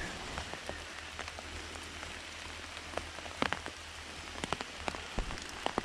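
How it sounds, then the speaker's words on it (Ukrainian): Rain pattering through a Carpathian forest: a steady soft hiss of falling rain with scattered sharper drips and splats landing close by, no voices. "А дощ паде,"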